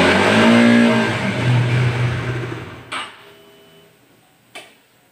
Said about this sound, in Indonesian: Motor mati-matian, mbelekbek ketika RPM dinaikkan atau tuas gas ditarik.